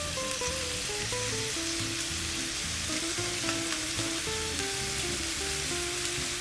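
Chicken pieces sizzle steadily in a pan on medium heat, with a constant bright frying hiss and occasional soft stirring clinks, close and alone without talk.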